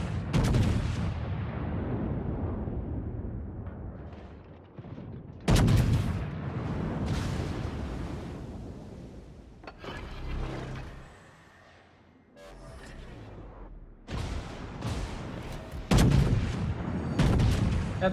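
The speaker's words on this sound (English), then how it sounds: "there is a whole friendly fleet firing at him" Naval gunfire from a friendly fleet in World of Warships pounds the Königsberg: heavy, loud artillery booms come in repeated bursts with rumbling decay between them, and no voices are heard.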